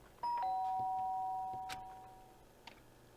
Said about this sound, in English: The sharp sound of the doorbell pierced my sleepy haze and pulled me back to the real world